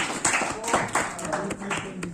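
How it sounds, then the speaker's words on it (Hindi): An audience claps in a loose, uneven rhythm of about ten distinct hand claps, fairly close, over a background murmur of voices. "ताली तो बजती रहनी चाहिए।"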